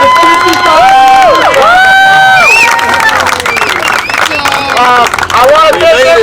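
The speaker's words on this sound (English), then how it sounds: "Round of applause." A crowd at a Surf City Classics car club night meeting cheers and claps: a lively mix of whoops, shouts and scattered clapping, with voices calling out across the space.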